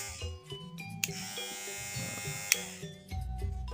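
An electric barber's hair clipper runs with a steady, smooth buzz and a few brief clicks, fairly close and alone with no talking.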